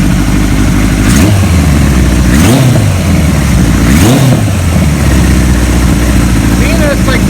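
A restored 1975 Kawasaki Z1 900 idles loudly up close, its engine blipped in three quick revs that rise and fall about a second and a half apart before settling back to a steady rumble.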